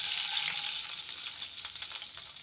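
A quarter cup of ghee heats in a pan on the stove, giving a soft, steady hiss and sizzle that fades slightly toward the end, with no talking.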